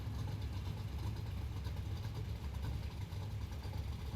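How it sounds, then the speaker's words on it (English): A car engine in the racing game Need for Speed: Heat drones steadily, with a thick low rumble holding at an even loudness for the whole stretch and no shifts or revs standing out. "So I'm just going by the sounds of the engine."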